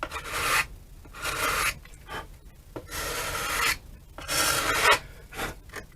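A sanding block rubs along the edge of a balsa model plane in repeated back-and-forth rasping strokes, close and steady with short pauses between passes.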